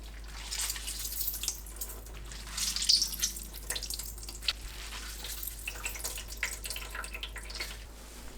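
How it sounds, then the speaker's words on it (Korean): Water drips and trickles into a kitchen sink as blanched tofu is squeezed out by hand, faint scattered splashes and small drips over a low steady hum, no one talking. "데친 두부도 물 짭니다."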